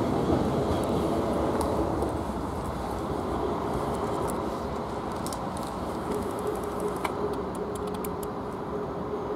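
Steady low rumble of a 9-car South Western Railway train rolling past near Winchester, a continuous broadband roar with faint clicks and ticks over the top, fairly close and even throughout.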